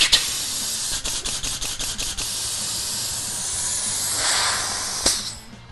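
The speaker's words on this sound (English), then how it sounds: "Flushing all of the spray foam out of the gun." Compressed air blasts through a spray foam gun to flush out leftover foam, a steady broadband hiss lasting several seconds with short sputtering bursts near the start and a brief pop near the end.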